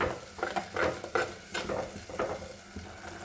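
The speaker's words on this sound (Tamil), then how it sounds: "கலந்து விட்டுக்கிட்டே இருக்கலாம். இது எண்ணெயிலே நல்லா வதங்கி வரணும்" Fish curry masala fries in oil for a fried-fish curry, a spatula scraping through it in quick, rhythmic strokes over a constant close sizzle.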